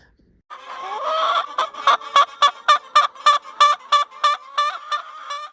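A chicken being chased clucks loudly and close by, starting with a drawn-out squawk and then settling into a rapid, steady run of sharp rhythmic clucks with nothing else heard.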